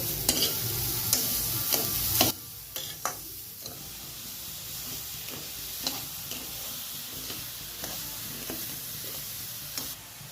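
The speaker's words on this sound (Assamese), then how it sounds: "এইখিনিও চুজিৰ নিচিনা এনেকৈ লৰাই দিব লাগিব যাতে ৰঙা পৰি নাযায়" A coconut and semolina laddu mixture is stirred in a pan, producing a steady, close scraping with rhythmic ticks and soft taps against the metal over a faint sizzle.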